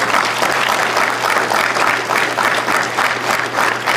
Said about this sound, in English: he's not getting as much applause for this